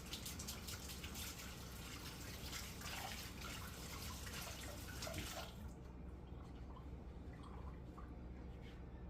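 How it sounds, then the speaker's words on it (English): Kitchen tap running while someone washes onion off their hands, a faint steady splashing stream that stops abruptly partway through, leaving quiet drips and small sounds afterward. "Let me just wash off my oniony hands."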